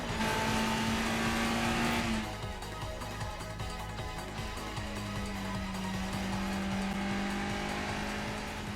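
Engine of an anime race car pulling up to the starting line, a loud sustained drone with a steady pitch that dips and shifts as it settles, continuous throughout with no voices.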